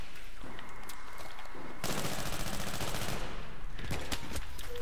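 Gunfire in the video game Battlefield 3 with a JNG 90 sniper rifle in close-quarters play, loud bursts and rapid automatic fire, a sustained heavy volley in the middle, up close and alone.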